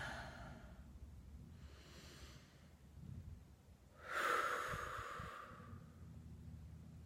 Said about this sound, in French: Et prenez une bonne respiration encore.